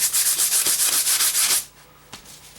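A block sander scrubs a model airplane part, a B-25 build, in quick rhythmic back-and-forth strokes that give a bright, raspy hiss, then stops and leaves a quiet pause broken by one small tap.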